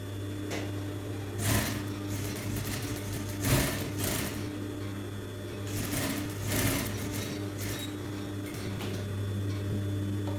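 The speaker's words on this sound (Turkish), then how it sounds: "Düz bir dikiş dikeceğim." Sewing machine running a straight seam with a magnetic seam guide attachment, a steady close mechanical hum with a few brief louder surges as the stitching speeds up.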